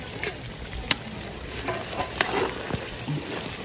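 Duck meat frying in a pan with ginger-garlic paste for an Assamese duck curry, a steady close sizzle with scattered stirring scrapes and soft clicks of the spatula.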